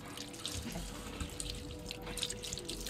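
Mangoes being washed under a running tap in a kitchen sink, a steady close splash of water with small drips and clatter, no talk.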